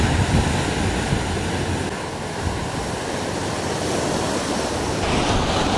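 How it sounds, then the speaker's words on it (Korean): Large sea waves wash over a pebble shore beside a coastal walkway in Yeongdo, Busan, making a continuous loud, close rushing hiss of surf and rattling stones with no talk. "이 자갈 부서지는 소리나 이 파도 큰 걸로는 여기가 지금 최고인 것 같아요"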